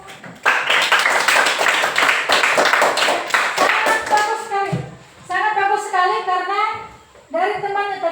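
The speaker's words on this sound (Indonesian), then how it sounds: "Untuk kelompok 1 kita beri tepuk tangan dulu" A classroom clapping for a student group, a burst of sharp, rapid hand claps from several people lasting about four seconds, followed by children's voices and singing-like chatter.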